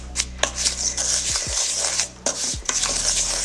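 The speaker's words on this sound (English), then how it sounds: "you're gonna mix that until it's well combined" Gluten-free, dairy-free chocolate chip cookie dough is mixed in a bowl, giving close, repeated scraping and rubbing strokes with a few sharper clinks of utensil against the bowl, with no talking.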